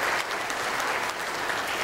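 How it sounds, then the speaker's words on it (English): A steady round of applause from a convention crowd, dense and continuous throughout. "a round of applause to us"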